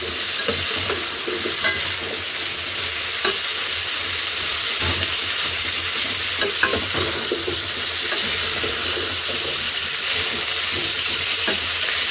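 A mixed vegetable curry of potato, carrot, papaya, radish and onion stalks, seasoned with turmeric and ground coriander, is stirred as it fries. A loud, continuous sizzle runs throughout, broken by frequent scraping and clinking strokes of the spoon, with no talking.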